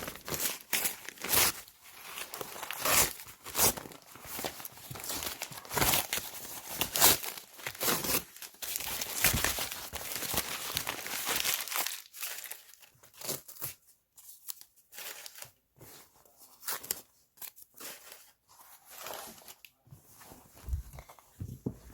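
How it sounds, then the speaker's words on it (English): Tearaway embroidery stabilizer being torn off the back of an embroidered chambray tote, producing repeated ripping and crinkling bursts, close and fairly loud, thinning out into sparser tugs and rustles toward the end. "we're going to tear off all the tearaway"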